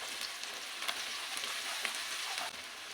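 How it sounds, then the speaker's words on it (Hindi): Finely sliced onions softening in hot oil in a pan for arvi masala, a quiet, even sizzle with small scattered pops and crackles throughout, no voices. "हम प्याज को थोड़ा सा सॉफ्ट करेंगे।"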